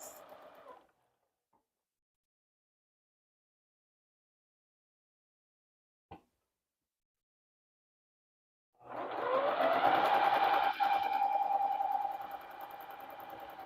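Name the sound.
sewing machine stitching a quilt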